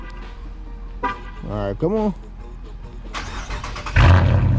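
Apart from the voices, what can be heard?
2019 Chrysler 300S car engine starting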